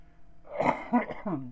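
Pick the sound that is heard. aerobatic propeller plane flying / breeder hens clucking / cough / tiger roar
cough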